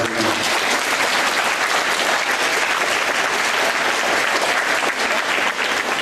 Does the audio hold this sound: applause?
yes